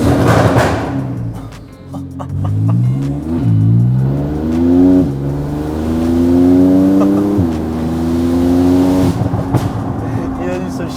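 A Porsche 991 Turbo S with 685 hp brakes, then drives off close by, its engine note rising and falling through several loud revving sweeps before settling into a steady drone; voices talk over it.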